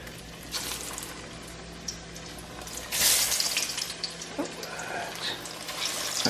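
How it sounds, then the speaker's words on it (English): Steady sizzling and crackling of food frying in a pan, with faint clinks and a brief louder burst partway through. "so while these are frying, I'm going to go ahead and finish putting everything in the pan"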